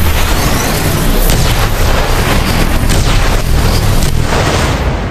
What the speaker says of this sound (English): It's the same lightning shot, but it draws lightning from the sky.